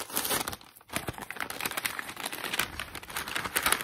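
Paper packaging of an advent calendar crinkles and tears as it is opened by hand, close and crisp. The rustles come in quick irregular bursts with a brief pause.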